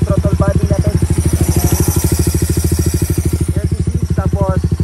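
A stock motorcycle engine fitted with an upgraded throttle body runs at a steady idle close by, with a rapid even thumping pulse throughout while someone talks over it.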